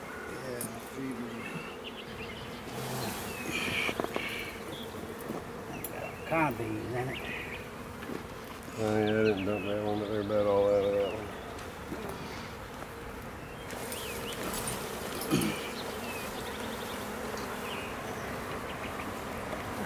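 Bees swarm around newly set up beehives outdoors, a continuous close buzzing with individual insects swelling louder as they pass, while people talk intermittently over it.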